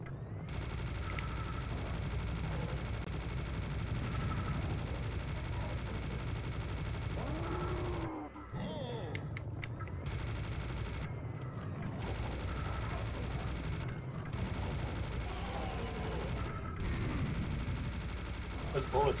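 Rapid bursts of video game gunfire and bullets pepper a steady dense backdrop of game noise, continuous and loud with brief drops, while a voice talks intermittently over the action.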